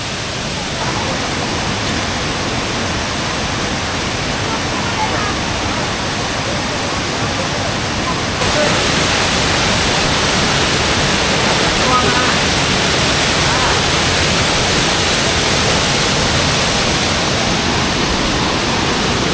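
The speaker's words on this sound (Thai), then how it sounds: "เสียงน้ำตกดังจนคุยกันไม่ค่อยจะรู้เรื่องเท่าไหร่ เสียงดังมาก" The Krok E-Dok waterfall roars in a dense, unbroken rush of falling water, loud and close, growing even stronger partway through and drowning out everything else.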